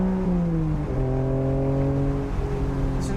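A race car engine on a track, heard from the driver's seat as a loud, sustained droning note that steps up in pitch through the gears.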